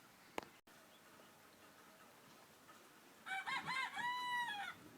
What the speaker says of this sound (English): You heard a rooster out there in the background.